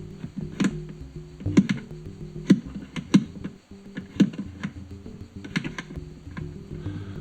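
The polydrum voice of a Sonic Potions x Erica Synths LXR-02 drum machine plays a quirky, clicky pattern of short tuned percussive ticks and knocks over a low buzzing bed, irregular in rhythm, moderately quiet, with no talk.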